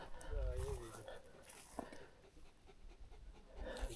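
A tired dog pants in quick, breathy bursts while digging an underground burrow outdoors beside a pond, the panting fairly faint and mixed with people chatting nearby.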